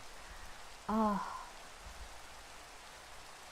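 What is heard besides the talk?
rain falling in Minecraft video game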